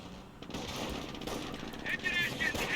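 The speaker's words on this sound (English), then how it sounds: "Or machine gun bursts by the 30 gal." Short machine gun bursts from a .30 cal in a Company of Heroes match, rapid rattling fire heard at a moderate distance under steady spoken commentary, with a few sharper metallic pings near the end.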